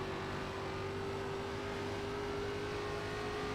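A simulated ARCA Menards Series stock car in iRacing powers out of turn 2 at Rockingham, its engine a loud, steady, close-up drone with a sustained hum and a broad roar that holds throughout, with no talking.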